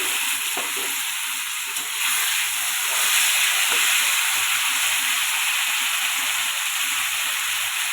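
Cumin, chili and ginger pastes sizzle and fry steadily in a pan with fried potatoes, a continuous close hiss with faint stirring clicks throughout.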